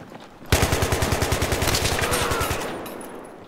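Machine gun firing in a video game, a rapid burst of about twenty loud, evenly spaced shots lasting two seconds, then a fading echo.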